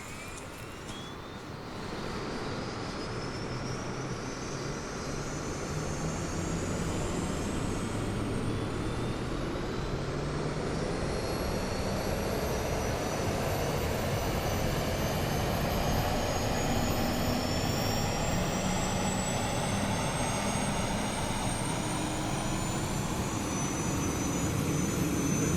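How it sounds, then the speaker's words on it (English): The auxiliary power unit of an Airbus A380 starting up in a flight simulator: a steady jet whine that builds and rises in pitch over about twenty-five seconds, loud and unbroken, with no voices. "Oh, that is an APU startup, at least it sounds like it."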